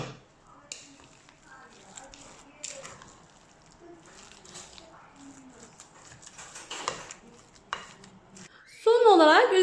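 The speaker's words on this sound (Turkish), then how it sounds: "Şimdi güzel bir şekilde karıştırıyorum" A potato mixture with milk, black pepper and salt being stirred in a bowl: soft scraping and scattered light clinks of a utensil, fairly quiet, ending with a brief louder tonal burst.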